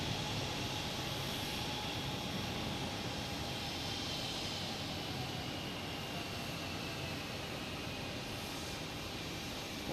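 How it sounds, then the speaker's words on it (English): An American Airlines Embraer E175 jet on landing approach at Boston Logan after a flight from LaGuardia, a steady, broad engine roar that holds loud and even throughout, no voices. "American Airlines coming in from LaGuardia. E175."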